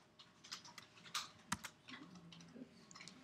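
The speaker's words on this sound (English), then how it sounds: "and then press enter." Computer keyboard typing during a neuroimaging analysis session, a quick scatter of light key clicks followed by a firmer keystroke for enter, close and fairly quiet with no talk.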